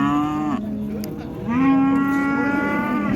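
At a busy cattle market, a cow of a local breed lets out two long, loud, low moos in close succession over a steady hum of crowd and animal noise.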